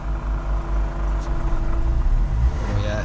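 A small seven-seater car's engine strains and struggles to rev while up for sale at an auction, a steady low rumble with a faint rising whine near the end, close and continuous.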